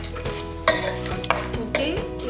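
Finely chopped almonds sizzle in hot ghee for a dry-fruit peda sweet, with a steady frying hiss broken by three distinct scraping stirs of a spoon against the pan.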